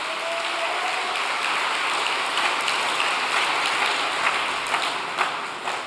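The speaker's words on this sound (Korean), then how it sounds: "다시 한번 박수 한번 보내주시기 바랍니다." An audience at a Korean church all-night devotional service gives sustained applause, a dense, even wash of clapping that fills the whole stretch with no talk.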